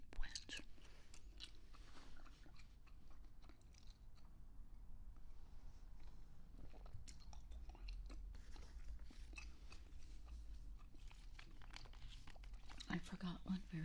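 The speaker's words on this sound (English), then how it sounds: "There's a bubble gum I'm chewing tonight, by the way. Big League Chew bubble gum, ground ball, grape." Grape Big League Chew bubble gum being chewed close to the microphone, with soft, wet, continuous smacking and crunching under quiet whispering that runs throughout.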